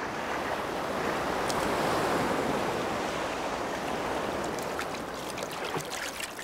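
Ocean surf crashing continuously on the coast of Baengnyeongdo, a dense, loud roar of breaking waves with wind noise and no pauses.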